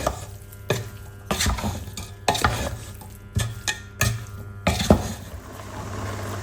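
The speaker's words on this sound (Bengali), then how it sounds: "সব একসাথে মিক্স করে দিলাম" Grill chicken marinade ingredients, including oil and ginger-garlic paste, are mixed together in a bowl, producing repeated wet squelching and scraping strokes in an irregular rhythm, close and moderately loud, with no talking.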